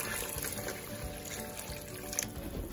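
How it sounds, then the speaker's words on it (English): Water is poured onto long grain rice in a home kitchen, giving a steady, soft splashing trickle that runs continuously, close but fairly quiet, with a small clink near the end. "And now I'm about to add the water now."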